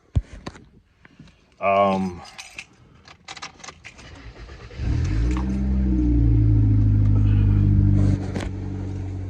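A car's engine rumbles steadily and grows louder as the vehicle gets going, after earlier clicks, key jangles and door handling inside the car. Voices are heard over the noise.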